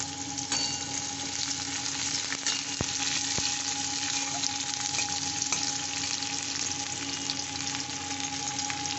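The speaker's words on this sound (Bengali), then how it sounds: "এবার আমি এই পেঁয়াজ কুচনোটা দিয়ে দিলাম।" Chopped onion sizzles in hot oil with cumin seeds over medium heat for a chili curry, a continuous close frying crackle with a few sharp clinks of a utensil against the pan.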